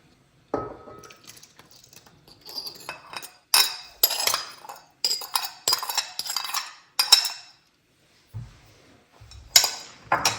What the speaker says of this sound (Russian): Добавляем сюда наши яйца.